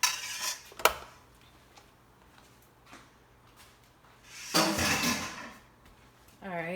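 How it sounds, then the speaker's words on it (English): Spaghetti with ground turkey and sauce is worked in a pot, giving scattered metallic scrapes and clinks of a utensil against cookware, with a couple of louder bursts of clattering and a voice speaking at the close. "I already got my pasta, and I'm just adding this into it, just working it."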